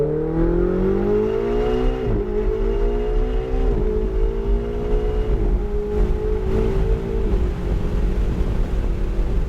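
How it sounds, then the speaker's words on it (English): Ferrari 488 GTB engine roars close and loud as it accelerates down a straightaway, its pitch climbing through several gear changes with brief dips between them. "now accelerate down that straightaway"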